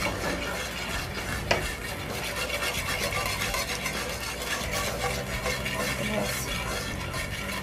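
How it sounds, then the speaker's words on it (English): A whisk beats roux into boiling liquid in a pot, producing steady rapid scraping and stirring against the metal over a bubbling, sizzling hiss, close and continuous. "you can go ahead and whisk in your roux"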